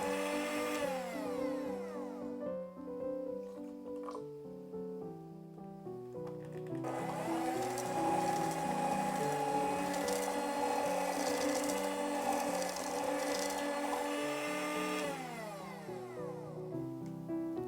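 An electric mixer beats cream cheese batter for a matcha cheesecake as milk is worked in, a steady whirring drone running through the middle of the stretch beneath tonal background music.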